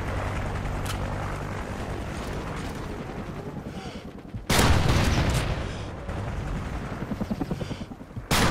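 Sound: friendly helicopter arriving amid gunfire in video game Call of Duty Ghosts

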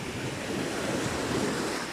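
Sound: sea waves on the shore

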